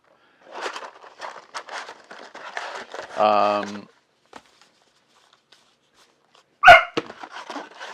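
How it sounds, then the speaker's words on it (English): A real dog barking in a home during a card game session, with a sharp loud bark near the end and quieter sounds earlier, amid a tonal blip and light rustling. "I see she's barking at one of the cats"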